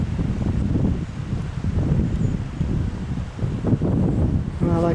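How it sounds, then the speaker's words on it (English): Cold wind gusts across the microphone on an outdoor walk through trees near a rock outcrop, a loud, steady rumbling buffet that rises and falls without speech. "that wind is cold"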